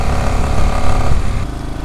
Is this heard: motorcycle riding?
yes